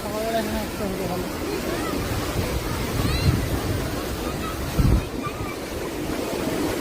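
Surf washing onto Arambol beach in Goa with crowds of bathers, a steady broad wash of waves and wind under faint distant voices, with a couple of louder surges partway through.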